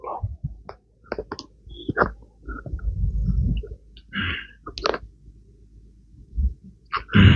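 A deep, drawn-out burp from someone bloated after too much snacking rumbles low for about a second, framed by softer throaty mouth noises and breaths.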